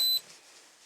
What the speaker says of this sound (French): On entend bien les petits bips.